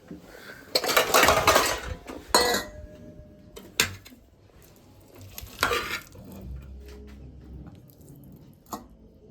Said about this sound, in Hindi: अभी कढ़ाई का बर्तन,